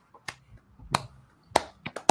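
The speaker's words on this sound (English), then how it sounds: "It's a slow clap." A handful of single hand claps ring out one at a time in a slow clap being started, widely spaced at first, then coming a little quicker toward the end, close and alone.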